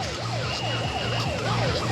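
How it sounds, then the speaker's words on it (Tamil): A police vehicle siren wails in rapid, repeating up-and-down sweeps near Varkala Beach in Kerala, steady and fairly loud over a low vehicle hum, with no talking. "என்ன போலீஸ் வண்டி"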